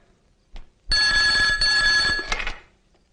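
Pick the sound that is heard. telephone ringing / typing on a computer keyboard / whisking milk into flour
telephone ringing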